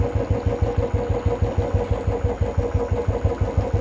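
A Royal Enfield motorcycle engine thumps at low speed as the clutch is eased out, a steady, rhythmic, close chugging pulse with no talk over it.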